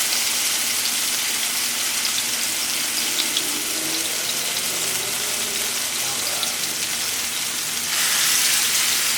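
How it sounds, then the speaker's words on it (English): Eggplant burger patties with garlic fry in a pan, giving a steady, close hiss and crackle of sizzling oil throughout, slightly louder toward the end, with no talking. "it's my first time frying these patties up"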